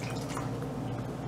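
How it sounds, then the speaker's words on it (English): Olive oil and lemon juice are poured over raw chicken, a brief, soft, wet splattering and dribbling heard close up with no talking. "I've mixed together my olive oil and my lemon juice. I'm going to pour it over my chicken."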